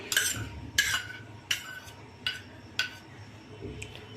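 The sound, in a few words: mixing grated bottle gourd, carrot, capsicum into handvo batter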